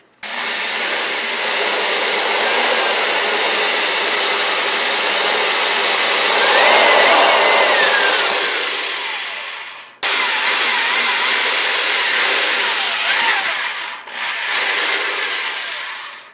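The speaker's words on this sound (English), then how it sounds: "Let's get these drilled out." A power drill bores out the rivet nubs on a Ford F-150 pop-out cup holder in two long, loud grinding runs, cut by a short break and a brief dip near the end.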